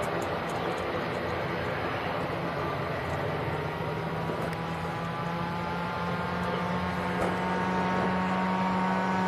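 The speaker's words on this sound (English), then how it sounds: "And the Ryanair that we mentioned in the chat from Londonderry, just about to touch down actually" A Ryanair airliner arriving from Londonderry touches down at Manchester Airport, its engines a steady, broad roar with a low hum, heard from a distance and holding even throughout.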